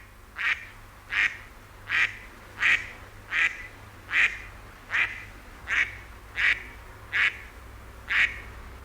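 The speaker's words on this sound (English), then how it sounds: "The mallard is quack, quack, quack, quack, quack, quack, quack," Mallard duck quacking, eleven loud, evenly spaced single quacks about one per second, close and clear over a low background hum.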